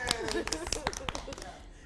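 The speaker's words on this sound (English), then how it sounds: "So yes, applause is in order." Applause for a guest in a Cape Town TV studio: a scattered run of hand claps, sharp and close, over about two seconds while voices speak over them.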